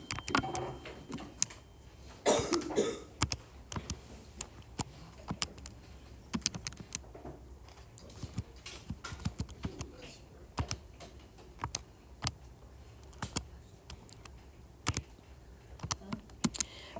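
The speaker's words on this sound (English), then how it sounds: "I'm going to type that function in." Keys clatter on a computer keyboard as a math function is typed into a graphing utility, a steady run of quiet, close clicks in irregular bursts with brief pauses, no talking.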